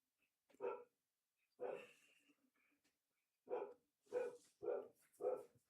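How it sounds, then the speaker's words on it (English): A pet dog barks in a home during a live football match watch-along, a handful of sharp, separate barks with pauses between them, close and fairly clear. "My dog is barking again."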